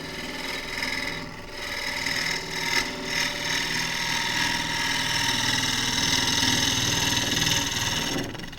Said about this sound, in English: This is a shear cut with the bevel rubbing.